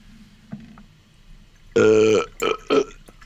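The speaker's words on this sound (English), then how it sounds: "Sometimes a burp just comes at the right time." A loud, drawn-out burp with a strong rising pitch, followed by two shorter burp-like bursts, close up over a quiet room.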